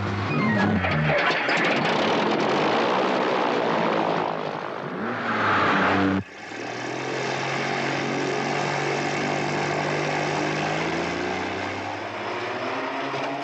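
A propeller airplane engine drones steadily and loud throughout, with a brief shift in pitch and a sharp cut partway before the steady hum resumes at a lower, even tone.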